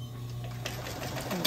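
A sewing machine runs steadily, stitching fabric along a seam line while making a zipper pouch, with a continuous motor hum and a couple of faint clicks near the end.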